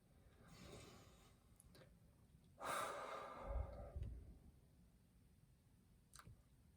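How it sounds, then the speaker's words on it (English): During a home church service, a single slow, deep breath is drawn in and let out, close and quiet, surrounded by softer breathing before and after. "Would you just take a deep breath with me?"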